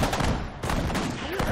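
Gunfire in the World War II strategy game Sudden Strike 4, set in the Pacific battle for Iwo Jima, crackles in rapid repeated bursts over a dense battle din.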